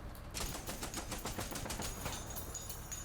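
A quick run of gunshots in the turn-based tactical game Menace, a faint, even burst of rapid rattling shots with no talking over it.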